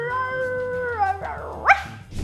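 A dog howls in long drawn-out tones that slide upward and break into a sharp yelp near the end, close and clear with no speech over it; the setting concerns dog-friendly air travel.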